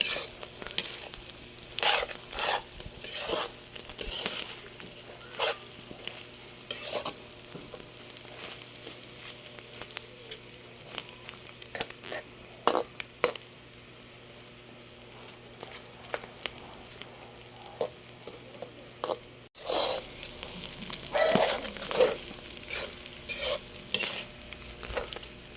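Bopis, a Filipino dish of chopped innards, sizzles in a pan while a spatula stirs and scrapes it in repeated strokes, with the frying hiss continuous throughout and a brief break near the end.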